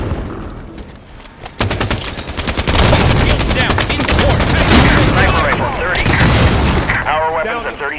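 Sustained Halo 5: Guardians firefight with dense automatic gunfire and booming blasts that build into a loud continuous barrage, with voices shouting over the din.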